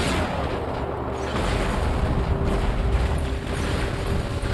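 Robot weapons firing in the mobile game War Robots: a dense, continuous barrage of booming shots and deep rumbling blasts, loud and sustained throughout with no talking.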